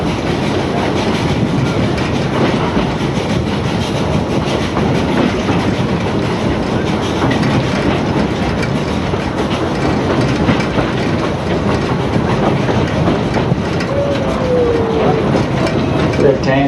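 The Bally Hooley steam railway train in Port Douglas, Queensland, rolls steadily along with a continuous rumble and clickety-clack of wheels on track, heard from onboard for the whole stretch, with a brief faint squeal near the end.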